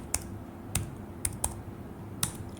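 Sharp, isolated keystrokes sound on a computer keyboard as a Docker Compose command is typed, five close clicks spaced unevenly over a quiet hum.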